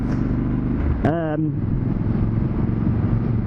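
A Triumph Scrambler 1200 XC motorcycle engine rumbles steadily up close, with one sharp throttle blip around the one-second mark that rises and then falls away, while talk runs over it.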